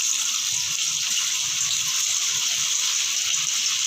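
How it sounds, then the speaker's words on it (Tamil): Soya chunks dropped one by one into hot oil sizzle and fry with a steady, loud hiss that holds evenly throughout, close up and without talk. "எண்ணெய் காஞ்சிருச்சு. நம்ம அப்படியே ஒவ்வொன்றா உதிரியாக போட்டுக்கலாம்."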